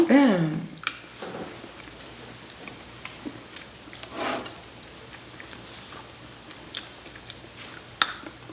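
Someone eats a fairly thick bar of dark milk chocolate with 30% cocoa, making faint, scattered bites and soft chewing sounds in a quiet room after a brief voice at the start.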